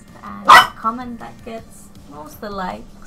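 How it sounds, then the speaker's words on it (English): A pet dog gives a short burst of barks that cuts in between stretches of someone speaking in a quiet indoor room. "Yeah, that's my dog agreeing with me."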